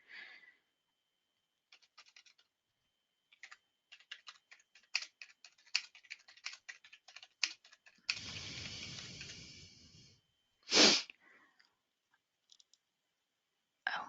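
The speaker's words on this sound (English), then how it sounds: "I'm just going to quickly type something out for somebody." Keyboard typing in quick bursts of close, crisp key clicks in an otherwise quiet room, broken by a brief rumbling stretch and a short loud sound near the end. No talking.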